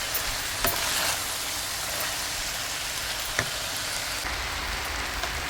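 Cabbage for beef lo mein sizzles steadily as it is stir-fried on the stove, a continuous close crackle with a few brief utensil scrapes and no talking.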